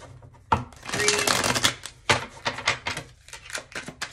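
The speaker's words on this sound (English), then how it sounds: "All right, Aquarius, let's get a good shuffle in." Tarot cards being shuffled by hand, a dense run of rapid papery riffles and taps starting after a brief quiet moment, close and fairly loud, with no talking.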